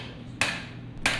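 Hammer blows on cut metal pieces during blacksmith texturing work, two sharp ringing strikes about half a second apart over a low steady hum.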